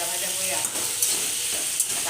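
Two bay leaves frying in hot oil in a pan give a continuous close hiss and sizzle, with a few sharper crackles and pops breaking through.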